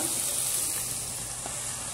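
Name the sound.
sautéed food sizzling in a pan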